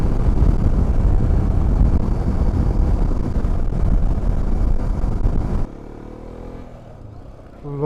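A Hero Xpulse motorcycle riding on a road, its engine drone loud and steady with heavy wind rush for most of the stretch, then dropping to a quieter engine hum near the end.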